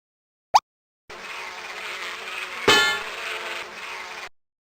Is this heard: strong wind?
no